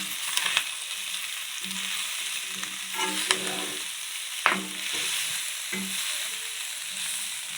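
Small coconut pieces sizzle and fry in a pan of Pallipalayam country chicken, with steady crackling oil, occasional stirring scrapes and a few sharper pops, close and moderately loud with no talk.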